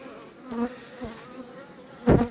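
Honeybees buzz in a low, steady drone with faint whining tones while being shaken from hive frames, swelling into a louder close buzz near the end.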